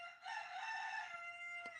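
A rooster crows once, loud and near, a sustained cock-a-doodle-doo that fills most of the moment before fading.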